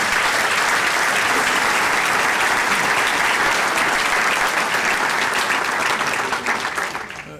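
A large audience at a Chicago Public Schools event applauds Arne Duncan with dense, loud, steady clapping that holds for several seconds before starting to thin out near the end.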